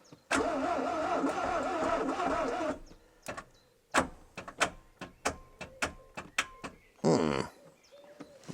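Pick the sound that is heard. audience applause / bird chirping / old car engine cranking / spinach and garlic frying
old car engine cranking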